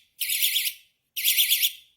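A Cooltto electronic fishing rod bite alarm gives two loud, shrill electronic warbling beeps, each about half a second long, with a short gap between them.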